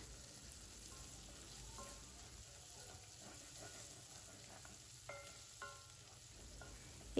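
Green chilies, ginger, garlic and curry leaves sizzle gently in oil over a low flame while being stirred for prawn pickle. The crackle is soft, steady and close, with a few light utensil clinks.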